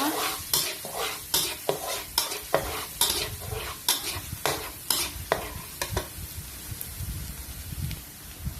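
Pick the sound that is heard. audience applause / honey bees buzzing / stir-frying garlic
stir-frying garlic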